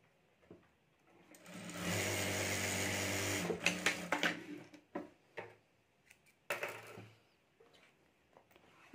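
A sewing machine stitches the lining of a homemade sling bag in a steady whirring run of about two seconds, then slows into uneven stutters and clicks, and gives one more short burst, close by and moderately quiet.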